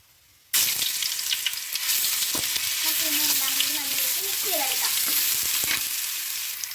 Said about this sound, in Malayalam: അടുത്തത് നമ്മൾ ഇടാൻ പോണ ഇഞ്ചി വെളുത്തുള്ളി പേസ്റ്റ് ഇട്ട് കൊടുക്കാം